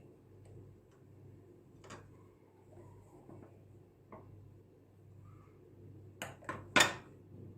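Large ice cubes scooped with an ice cream scoop into glasses for milky iced coffee, a few faint clinks early on and then several sharp, close rattling clatters near the end against a quiet background.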